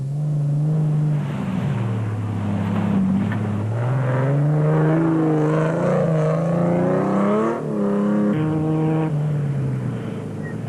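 A BB Auto hardbody off-road race truck in the Sun City 400 desert race drives past with a loud sustained engine drone whose pitch rises and falls as it changes gear, heard close and steady.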